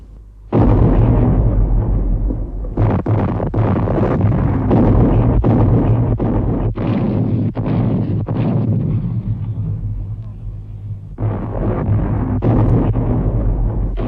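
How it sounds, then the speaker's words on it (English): Heavy German artillery bombardment at Verdun, including a Krupp 15-inch naval gun, rolls on as a continuous loud barrage of deep booming blasts and rumbling bursts, with sharp repeated detonations over a sustained low roar and no talk. "For 3 hours, the German heavy guns ranged on Verdun itself."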